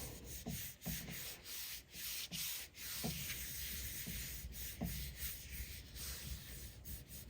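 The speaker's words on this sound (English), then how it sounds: "I'm going to rub, use my whole hand to rub" A whole hand rubs paper over a Gelli printing plate, giving repeated soft scratchy strokes at close range with short gaps between passes, alone without any talking.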